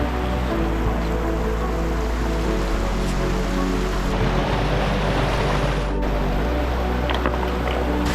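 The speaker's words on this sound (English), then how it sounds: "looks like we're heading down to the river here." A river rushes through Mulagljufur Canyon in Iceland, a loud, steady broadband roar of flowing water that runs unbroken throughout with no voices.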